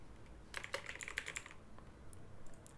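Quick bursts of keystrokes clatter on a computer keyboard, a short flurry of light clicks followed by a few scattered taps, quiet and close with no talking.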